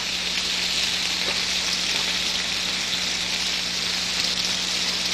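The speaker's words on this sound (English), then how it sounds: "Keep moving your peppers so they don't turn brown. We don't want them to fry." Peppers sauté in a pan over medium to medium-high heat, a close, even sizzling hiss running unbroken throughout with no voices.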